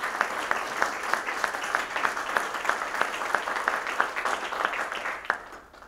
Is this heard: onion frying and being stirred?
no